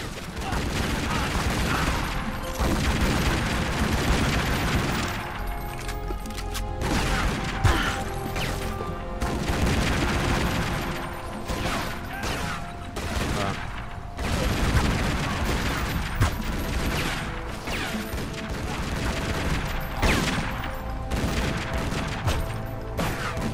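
Explosions and gunfire in Tomb Raider: Legend, with dense crashing blasts and rapid bursts of fire that continue steadily and loudly throughout, layered with game music.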